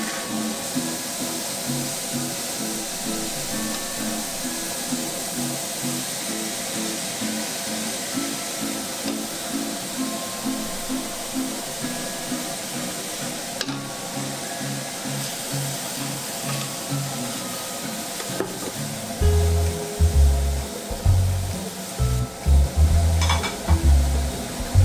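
Olive oil heating in a pan for Bolognese sauce, a steady broadband sizzle and hiss running close and continuous, with occasional stirring or pan clatter and louder bursts toward the end.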